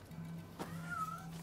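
A cat meows once in Rise of the Ronin, a short faint rising-falling mew over a quiet low game background.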